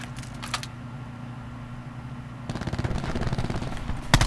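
Enemy gunfire in Call of Duty Black Ops during a free-for-all match, a dense rattling burst of rapid shots starting midway and running to the end, loud over a steady game background hum.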